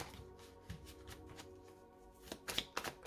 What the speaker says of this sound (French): Allez, on va voir avec le tarot. On va commencer par une coupe.